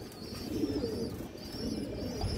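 Silver pigeons coo in low, rolling murmurs, several birds overlapping in a steady throaty burble close by, with a faint higher chirp drifting in now and then.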